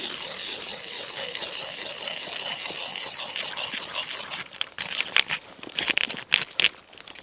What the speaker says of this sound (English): now I can start to twist the lever and it's going to go in.